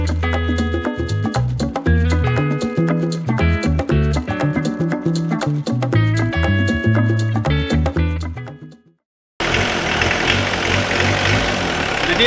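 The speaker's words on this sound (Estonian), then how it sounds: "Nüüd tuleb diisli häält, auto lagin häält." An Audi 80 diesel engine idles with a loud, close, rhythmic clattering rumble that runs steadily, drops out briefly, then resumes as a harsher, noisier rattle.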